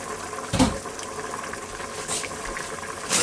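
Liquid bubbling at a rolling boil inside a Ninja Foodi Deluxe while chicken noodle soup cooks, a steady close gurgle with one louder splash near the start.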